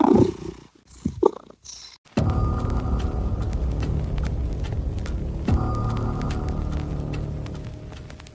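Close, steady purring of a cat, a low rhythmic rumble continuing for several seconds after a few brief rustling noises at the start.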